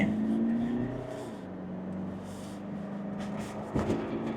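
A 2023 Mitsubishi Pajero Sport 2.4 GT Plus 2WD on 20-inch wheels accelerates with a rising engine drone that settles into a steady run, followed by a sharp thump near the end, at moderate level.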